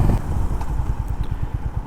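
A Honda CB350RS motorcycle engine runs at a steady low idle, a rhythmic thumping pulse heard close and fairly loud with no talk.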